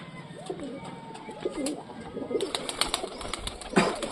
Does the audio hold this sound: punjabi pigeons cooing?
yes